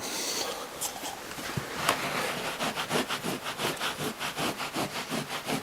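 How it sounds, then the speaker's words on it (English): Steady rhythmic scrubbing as 5 grams of powder is rubbed into a carpet by hand, close and fairly loud, the back-and-forth strokes speeding into an even pulse. "we're just going to rub that in the carpet"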